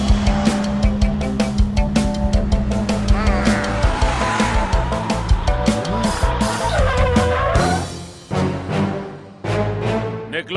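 Cartoon cars racing in a chase, engines revving and roaring up close with rhythmic bursts, tire squeals and skids, over busy music, then a few sharp impacts toward the end.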